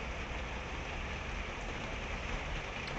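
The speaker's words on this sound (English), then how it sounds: "I thought it was raining because I'm in the conservatory and I'm like, oh my god, it's hailstoning" Hailstones falling on a conservatory roof, a dense, steady hiss of countless small impacts filling the space evenly from start to finish, loud and unbroken with no voices.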